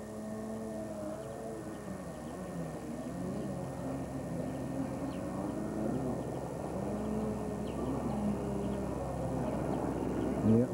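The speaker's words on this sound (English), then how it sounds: "we have a young man who's doing his thing on his jet ski." A jet ski runs on a lake, its engine droning steadily with a wavering pitch that rises and falls as it moves, fairly close and continuous throughout.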